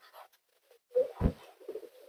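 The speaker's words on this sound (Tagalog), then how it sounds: "Matitibay pa lang ibon dito kay Brad Edivic" Racing pigeons cooing nearby, giving a short low throaty coo with softer murmuring calls around it, moderately loud and close, with no talk.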